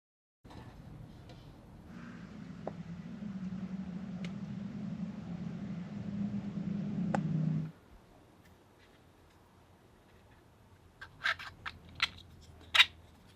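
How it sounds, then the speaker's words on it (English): A 3D printer whirs with a steady low motor drone that builds, then cuts off abruptly, followed by a few sharp clicks and taps. "I better crank up a batch of these on the printer"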